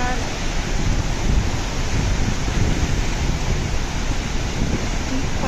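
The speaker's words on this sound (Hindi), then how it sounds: "देखो जरा फेमस है यहाँ का, ये मनेरी डैम का ये वाटरफॉल।" Rushing water of the Maneri Dam waterfall in the mountains near Harshil, a steady, loud, broadband roar that stays constant throughout with no clear breaks.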